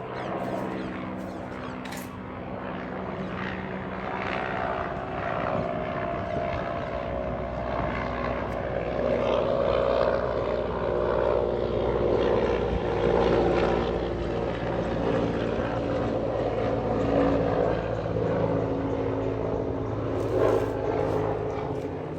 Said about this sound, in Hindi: हेलीकॉप्टर आ गया यार